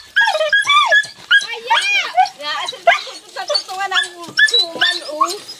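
Several dogs whimper, whine and yip excitedly in greeting, close and loud, with rapid overlapping high-pitched cries throughout.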